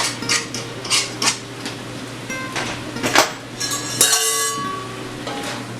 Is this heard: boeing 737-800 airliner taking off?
no